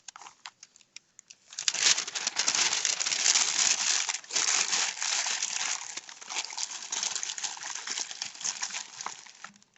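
A sheet being crumpled by hand for a sculpture armature, a dense crinkling rustle that starts after a brief quiet moment and goes on loud and close.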